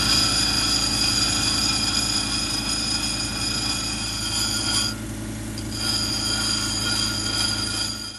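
A lapidary grinding wheel working a Lake Superior agate, a continuous loud mechanical drone with a sharp whining tone, briefly easing as contact lightens before resuming steadily.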